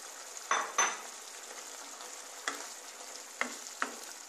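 Pointed gourd pieces tipped into a pan of poppy-seed paste and water sizzle and bubble softly, with a few sharp clinks and stirring scrapes of a spoon against the pan over a low, steady fry.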